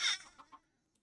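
Chickens in a video game give a few short clucks, a louder first one followed by two or three softer ones that quickly fade to silence.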